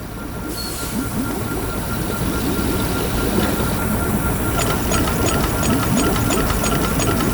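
An escape pod in the video game I Expect You To Die vents oxygen as a steady, loud hiss and mechanical rumble, with faint repeating clicks joining partway through.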